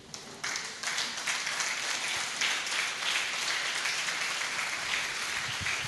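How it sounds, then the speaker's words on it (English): A standing audience at a Catholic archdiocese education summit applauds to welcome the archbishop, producing a full, continuous roar of clapping from a large crowd that starts abruptly and stays steady throughout. "rise as we give him a resounding applause of welcome"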